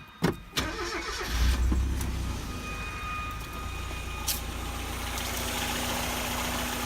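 A Mazda Miata car engine starts with a few sharp clicks and a brief crank, then settles into a steady, moderately loud idle nearby.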